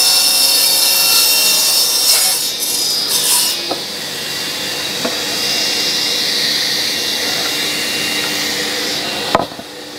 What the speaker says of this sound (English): Dust extractor on, blade on, let's go.